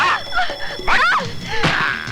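Woman screaming in a Bollywood action movie, shrill wavering screams rising and falling in a few loud bursts, mixed with distressed vocal sounds.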